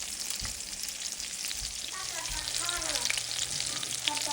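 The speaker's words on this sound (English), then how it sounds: "Sizzling on the pan." Perch fillets sizzle as they fry in a pan, giving a steady crackling hiss with a few soft taps. Faint muffled voices sit underneath.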